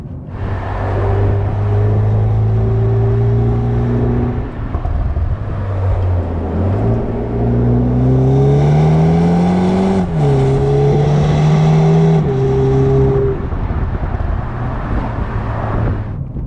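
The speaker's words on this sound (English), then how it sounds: "This engine does sound good though. If you listen to it from the exhaust pipe, it sounds, got a nice little throaty, barky soundtrack to it." A 2019 BMW 330i G20 M Sport accelerates hard, its engine and exhaust giving a throaty, barky note that climbs steadily in pitch through the gears, loud and close for the whole stretch with no talk.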